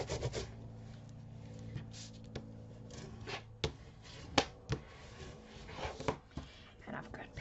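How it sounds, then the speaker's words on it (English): Paper is burnished firmly for an Old Lace folio craft project, producing quiet, irregular rubbing and scraping strokes with a few sharper scratches. "Let's burnish it very well."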